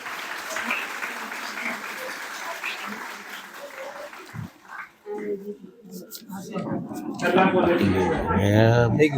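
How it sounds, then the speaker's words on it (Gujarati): Loud clapping from a crowd at a college valedictory function fills the first few seconds, then fades as voices begin speaking. "જોરદાર તાળીઓ"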